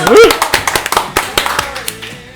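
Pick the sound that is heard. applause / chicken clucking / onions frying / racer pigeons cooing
applause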